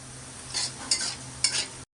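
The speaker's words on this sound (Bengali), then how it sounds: "পেঁয়াজ ভাজতেছি, লবণ দিয়ে দেব।" Onions frying and being stirred in a pan, a close low sizzle with three quick stirring scrapes in two seconds, no talk, cut off abruptly at the end.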